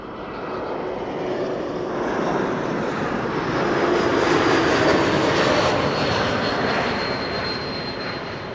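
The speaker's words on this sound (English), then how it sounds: "The well-known geared turbofan whistle when the airplane passes you by" An Embraer E2 airliner with geared turbofan engines passes on approach to Amsterdam Schiphol, a loud, steady broadband roar carrying a thin high whistle that swells and fades as it goes by, with no one talking.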